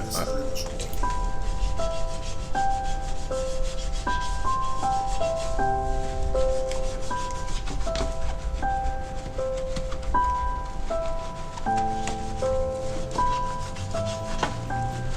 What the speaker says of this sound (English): I'm using a Chemical Guys wheel brush right now, so I'm going to get inside the barrel of the wheel as much as I can